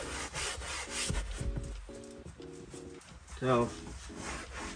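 A brush scrubs a car's interior upholstery during detailing, giving repeated rhythmic rubbing strokes close to the microphone, with a brief spoken word at the start.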